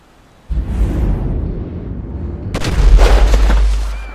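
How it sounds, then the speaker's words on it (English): Gunfire in Grand Theft Auto 5 during a mission: a sudden loud burst hits, then a heavier blast swells and lingers as a booming rumble, with no talk over it. "Now I'm taking a shot."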